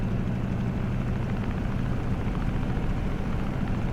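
A Grumman F6F-5 Hellcat's engine runs inside the cockpit of the Microsoft Flight Simulator warbird with the canopy open, giving a steady, dense, low droning rumble that stays even throughout with no voices.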